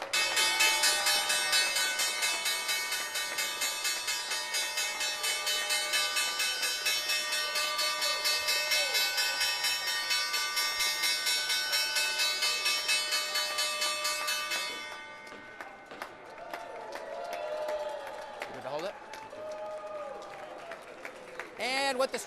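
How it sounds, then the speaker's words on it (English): The New York Stock Exchange closing bell rings in a rapid, sustained clang for about fifteen seconds over crowd applause and cheering on the trading floor, then stops, leaving scattered clapping and voices. "We'll pick up the broadcast on the other side of closing bell here at the NYSE."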